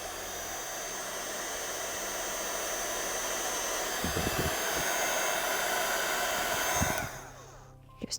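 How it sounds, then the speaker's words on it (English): An embossing heat tool blows a steady, loud airy whir close by while heating a card, running continuously before cutting off near the end, with a few faint knocks. "So I'm going to go back in with my heat tool."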